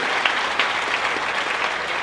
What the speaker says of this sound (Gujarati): એટલે એકવાર ખૂબ જોરદાર તાળીઓ આ બધા મિત્રો માટે હોવી જોઈએ